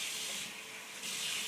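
Water pours steadily into a food processor while pizza dough is being made, a soft continuous splashing hiss that swells again near the end.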